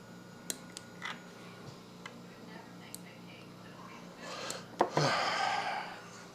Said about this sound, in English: Let me clip off these ends. Let's go back with a pair of snips.